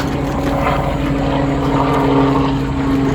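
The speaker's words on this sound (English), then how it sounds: "Sorry about the helicopter going up and over." A steady, loud rotor and engine drone fills the air continuously, a helicopter passing overhead with no voices.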